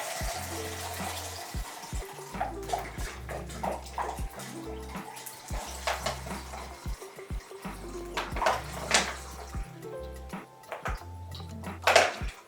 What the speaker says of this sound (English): So that's going to be about 24 ounces of water, and it's got a 25 ounce mark right there, so I'm just going to fill up to about right there.